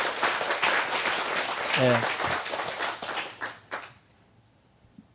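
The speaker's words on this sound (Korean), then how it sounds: "박수를 좀 해줘요." A church congregation claps for a visiting missionary couple, a lively burst of many hands that thins out and fades to near silence after about four seconds, with a short spoken word near the start.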